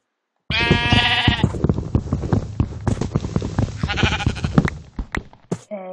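Loud, close sheep bleats in a modded Minecraft-style block game, several overlapping wavering cries with thumping impacts in between, ending with a short higher-pitched squeal.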